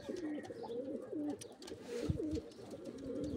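Pigeons coo repeatedly nearby, soft rhythmic calls overlapping with faint chirps in a quiet outdoor setting.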